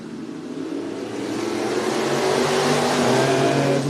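Dirt track race cars roaring off together at the start of a heat race at Cottage Grove Speedway in Oregon, engines loud and building as the pack accelerates.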